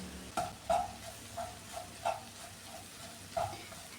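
Ground spice powders, Kashmiri chilli and fennel among them, frying in a pan for a kovakka (ivy gourd) mezhukkupuratti, with a soft steady sizzle and a few scattered scraping stirs, no voices.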